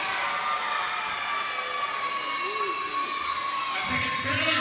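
Young fans in a wrestling crowd cheer and shout in a steady, busy roar throughout, with a louder burst of voices near the end.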